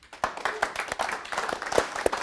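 A crowd applauds a musician as he takes the stage, a loose patter of close handclaps with a few sharper slaps standing out over steady clapping and faint voices.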